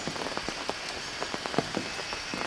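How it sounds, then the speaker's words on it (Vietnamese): Heavy tropical rain at a forest campsite in Ba Vì, a steady dense hiss of drops pattering on surfaces with scattered louder plinks, close and continuous, no voices. "Công nhận quả vừa rồi nó mưa to thật."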